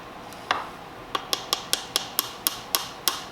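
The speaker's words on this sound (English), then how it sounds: "Now I'm not hammering it in to be a tight fit." A small hammer taps sharply again and again, seating a banjo nut, about nine light strikes at a fairly even rhythm, each a crisp close click.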